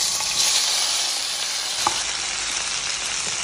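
Tomatoes fry on their own in a pan for a chicken stew, producing a loud, dense, unbroken sizzle with a single faint tap of a utensil partway through.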